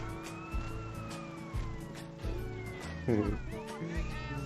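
A police siren wails with rising and falling tones in GTA San Andreas, while engine hum and music-like thumps play underneath.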